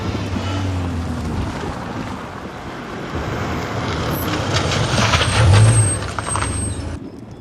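A truck idles with a low rumble, then lets out a loud hiss of air brakes near the end, with wind buffeting the microphone throughout and no talking.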